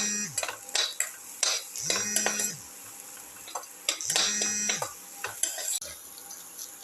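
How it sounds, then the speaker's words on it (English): Ginger root is sautéed and stirred in a pan, with repeated rhythmic scraping strokes and metallic clinks of the spatula over a faint sizzle, close and steady. "Thoroughly saute"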